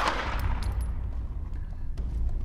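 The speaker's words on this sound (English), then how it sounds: "we're firing 2 rounds." A handgun fires two rounds at close range on a shooting range. The sharp reports ring over a loud, continuous rumble of outdoor background noise.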